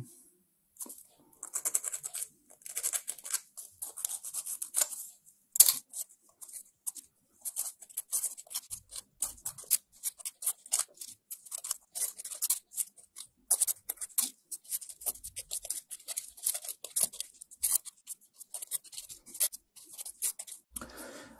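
Hand sanding of small metal track links for a model tank, made up of faint, quick scratchy strokes and light rubbing in short bursts, close by and fairly quiet, with no talking.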